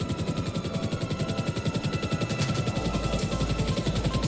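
A helicopter starts up for takeoff, its rotor beating in a fast, steady, loud rhythm that fills the whole clip, with the thumping deepening and strengthening toward the end.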